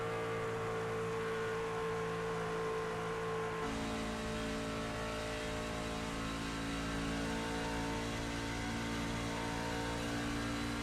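A race truck engine held wide open through the corners on an oval, a steady sustained drone that never drops off, with a slight shift in pitch partway through, loud and continuous.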